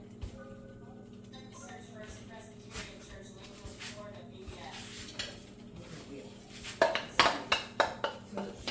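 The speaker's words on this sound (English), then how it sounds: "So the oil is hot enough now, so I'm going to add my sauce, my tomato sauce," Tomato sauce poured into hot oil in a pot for New York style grandma pizza sauce: a sudden loud sizzling burst near the end, followed by a run of sharp clanks of a utensil against the pot, over a steady background hum.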